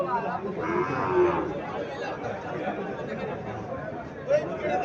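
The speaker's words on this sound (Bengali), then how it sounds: "এখানে একটা গাভী দেখা যাইতেছে," A cow moos loudly at the weekly Chandimura cattle market, a drawn-out low call near the start, while someone talks over it and a crowd chatters in the background.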